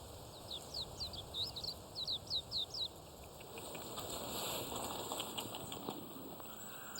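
Small mountain birds chirp around Bongamsa temple in the winter forest of Huiyangsan, Mungyeong, as they fly in to eat scattered rice: a quick run of faint, high twittering notes, then quieter calls over a soft outdoor hiss.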